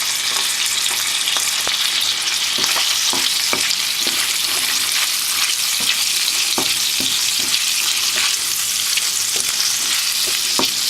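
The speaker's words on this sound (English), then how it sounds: "now I need to cook gently prawn and garlic together" Prawns and garlic frying gently in a pan give a continuous bright sizzle, broken by irregular clicks and scrapes of a utensil moving them around, close and steady, with no voices.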